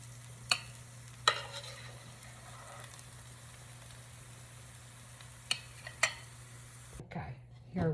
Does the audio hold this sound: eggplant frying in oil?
yes